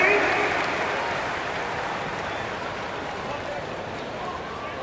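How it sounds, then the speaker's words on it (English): An arena crowd at a Detroit Pistons NBA home game applauds the Pistons dancers, a broad wash of clapping and cheering that starts loud and slowly tapers off. "Give a big round of applause for your Pistons dancing."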